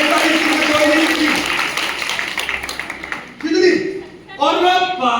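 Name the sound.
audience clapping on command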